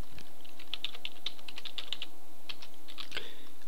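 Rapid, irregular clicking of computer keyboard keys as a file name is typed in the nano text editor on Linux, close and crisp, with no voices over it.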